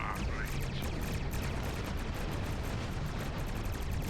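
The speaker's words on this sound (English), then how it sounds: "That's a lot of explosions." Rapid, dense bursts of video game explosions and gunfire in Star Trek Online crackle continuously throughout, like a chaotic battle, faint and somewhat distant.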